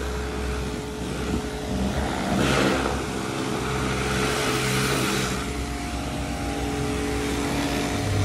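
A Honda EJ1 with a swapped B16 engine being driven, its steady engine drone and road rumble continuous and close from inside the car, rising slightly in the middle with no talk over it.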